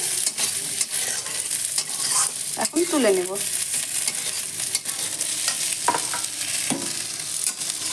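Eggplant slices frying in oil in a kadai, a steady close sizzle running throughout with occasional stirring clinks and a brief spoken phrase over it.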